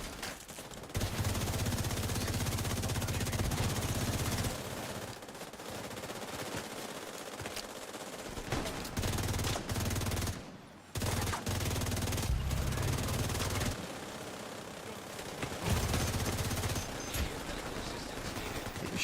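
Gunfire in the video game The Division 2 comes as repeated bursts of automatic fire and scattered shots with brief pauses, loud and close throughout, with no talking.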